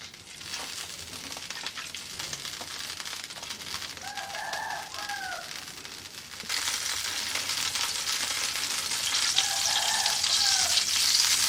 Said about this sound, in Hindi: घी को मेल्ट करेंगे।